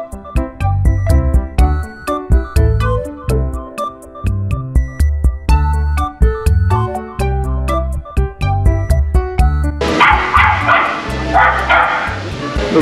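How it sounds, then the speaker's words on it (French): Dog barking, repeated yips and bow-wows over a dense musical cartoon soundtrack, ending in a noisy burst. "Ça aboie un peu trop"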